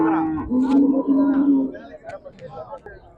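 Cattle at the Vadalur cattle market in Tamil Nadu give a loud, drawn-out moo lasting over a second. Fainter market bustle and scattered voices follow.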